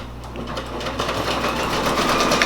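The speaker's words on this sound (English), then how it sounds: "hit my little lock button and hit the start button. And now let's let the blue stitch out." A Brother Persona beginner embroidery machine stitches out a blue section of a patch, a steady close buzzing hum with rapid regular needle ticks running continuously without pause.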